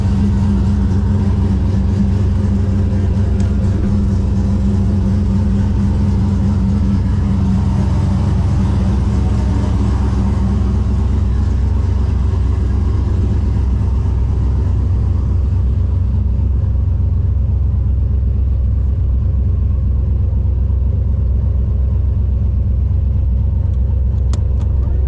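A Holden VL race car engine rumbles and revs as the car rolls out of a shed, a loud, steady, close drone that fades toward the end.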